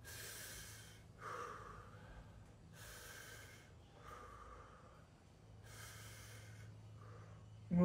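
A person breathes deeply during a facial fascia exercise, alternating audible inhales and forceful nasal exhales in a slow, regular rhythm, close and clear with no talking.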